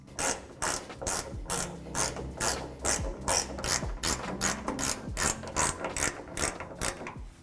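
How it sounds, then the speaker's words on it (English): A hand ratchet fitted with a 12mm socket clicks steadily as it loosens bolts on a 2016-2022 Toyota Tacoma hood hinge, giving close, loud, rhythmic bursts of ratcheting with no talk. "grab your ratchet and a 12mm socket, and we're going to loosen up both of these bolts"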